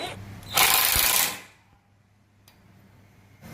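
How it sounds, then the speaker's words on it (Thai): A Gemma impact driver driving self-tapping screws into wood, one loud buzzing burst close to the microphone lasting about a second, followed by quiet, with faint clicks after it. "เดี๋ยวเอาอันนี้เป็นตัว Impact นะครับ ไขควงของเจม่า ยิงเข้าไปดูนะครับ"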